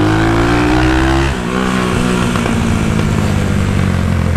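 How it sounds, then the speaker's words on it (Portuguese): An abandoned Honda Today motorcycle, running again after a year unused, revs loud and close with a harsh, vibrating tone. The engine holds a steady high rev, dips briefly, then settles into a rough, buzzing idle. "Caramba, nem eu lembrava que essa moto era forte"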